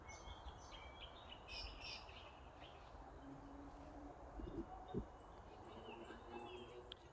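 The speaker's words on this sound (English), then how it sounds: "there's still a lot of bird life here" Wild birds call and chirp in an overgrown urban woodland after rain, several faint scattered calls and tweets drifting over a steady outdoor background hiss.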